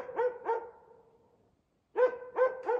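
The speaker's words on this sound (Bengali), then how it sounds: "কুকুর ডাকছে" A dog barks at night in a quiet place, sharp, fairly close barks coming in two bursts: a pair, then a hush, then three more.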